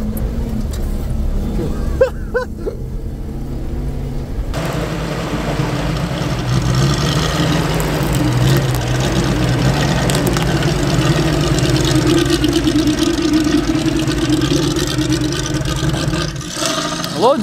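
A 4x4 car engine drives off-road, a loud continuous rumble that idles briefly and then pulls away, rising and holding steady under faint voices.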